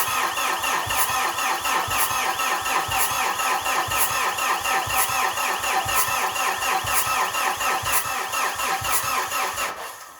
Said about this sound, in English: I know it also sounds a little strange when it's cranking over